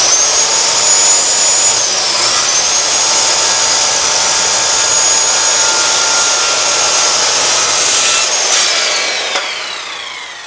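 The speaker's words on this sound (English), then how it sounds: "if we want to cut it off straight and follow that line, just a standard circular saw will work beautifully" A standard circular saw whines loudly and steadily while cutting through an engineered hardwood floor plank, its high blade pitch holding nearly constant before shifting slightly and winding down at the end.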